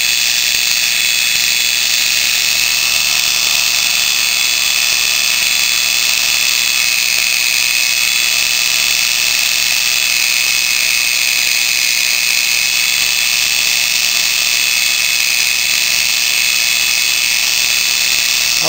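A G0704 milling machine motor spins at high speed around 2500 RPM, giving off a steady, loud, high-pitched whine that holds constant throughout with no talking.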